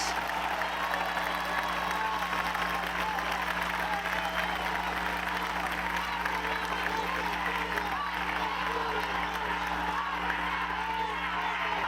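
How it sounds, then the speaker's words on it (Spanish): Steady audience applause fills the whole stretch for the women brigade volunteers at a public event in Mexico City, a dense, continuous roll of clapping from a large crowd with no pauses. "Un aplauso a las mujeres."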